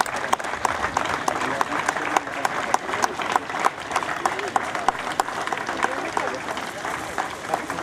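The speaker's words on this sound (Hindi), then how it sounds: "कम से कम तालियां तब तक तो बजनी चाहिए जब तक महिलाएं मंच पर विराजमान हैं" Audience applause at a 75th Independence Day ceremony at the Banaras Locomotive Works in Varanasi, continuous steady clapping held for several seconds while women are on stage, with talk over it.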